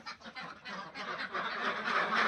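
Confined farm ducks kept for eggs quack in a dense, continuous chorus that grows louder toward the end, close and unbroken, with no talking.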